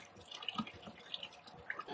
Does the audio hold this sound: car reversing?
no